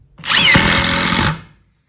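A Makita impact driver sinks a screw in one continuous burst of about a second and a half, loud and close, with a buzzing whine and rapid hammering impacts that stop abruptly.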